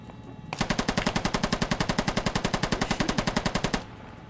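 Sustained automatic gunfire in the Squad military shooter, a rapid, even burst of about thirty close, sharp shots lasting roughly three seconds before stopping abruptly, with no talk.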